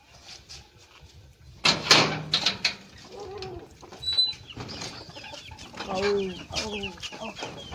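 Aseel chickens cluck and squawk nearby in short bursts, with a few rustling and knocking sounds mixed in around the calls.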